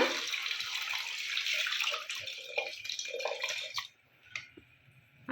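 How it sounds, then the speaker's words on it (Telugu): Tamarind water pours into a pot for tomato rasam, a soft continuous splashing stream that slows and stops near the end, followed by a few faint drips. "ఇప్పుడు చింతపండు వాటర్ పోస్తున్నాను"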